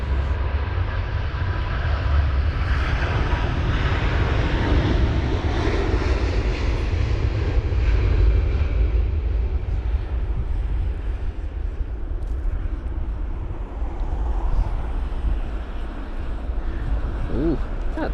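An Airbus A350 roars at London Heathrow during Storm Kathleen, a loud, steady jet engine rumble lasting the whole stretch with gusty wind underneath.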